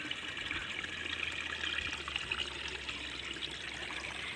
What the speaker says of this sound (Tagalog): Dito po sa amin ay may bukal.